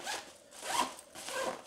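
A compression packing cube zipper is pulled in three quick, raspy strokes, close and fairly quiet, with brief pauses between them.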